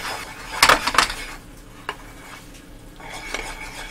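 A spoon stirs sauce with orange peel in a cooking pan: a quick cluster of clinks and scrapes against the pan, then quieter, sparse stirring with one more light knock.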